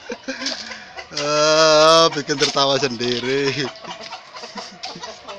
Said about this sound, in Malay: Ayam muda lagi belajar berkokok.